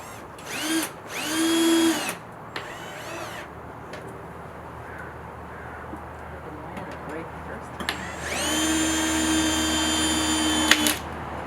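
A cordless power drill driving into wood, with short close whirring bursts followed by a longer sustained run, and a quiet gap between them.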